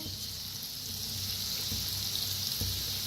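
Strands of dough for shev frying in hot oil, a steady dense sizzle and crackle that carries on alone without pause.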